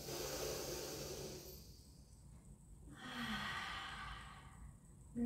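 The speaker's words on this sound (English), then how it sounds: "Take a breath in." Deep, slow breathing during a pilates session, a long audible exhale followed by a quieter inhale and another breath, soft and close without speech.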